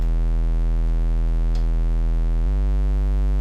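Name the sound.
deep sub bass with distortion in a beat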